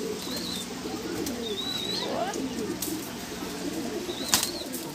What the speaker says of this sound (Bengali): পুরো লালদোমা জেনারেশন, পুরো লালদোমা পায়রা, সব কটাই লালদোমা পায়রা